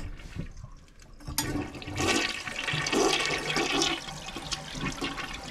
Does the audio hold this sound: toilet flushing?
yes